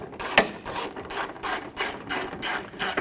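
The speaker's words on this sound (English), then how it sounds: "Take your 10mm bolt, line that up into your headlight bracket, and go ahead and snug that bolt down." Ratchet clicking as it snugs a 10mm bolt into the headlight bracket of a 2012-2017 Toyota Camry, a close, steady series of rapid clicking bursts with short pauses between strokes.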